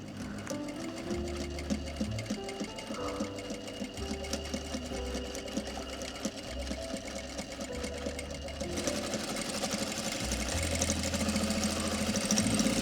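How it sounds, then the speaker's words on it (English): A sewing machine runs steadily while stitching down the pocket facing on a pair of shorts, its even mechanical whir continuous and close throughout with a slightly louder stretch near the end. "we're actually sewing the pocket facing down"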